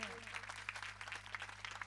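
A congregation at a thanksgiving Mass claps for a newly ordained priest in dense, steady applause with bright clap transients, heard at a fair distance in a reverberant church.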